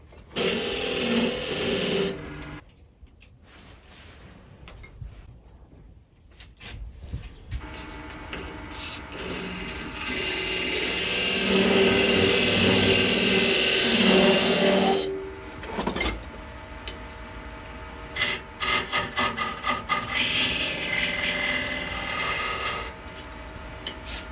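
Wood being turned on a lathe for a ball box, with a loud continuous whir and scraping cut that breaks off briefly, returns as a sustained steady grind, then becomes choppier toward the end; no talking.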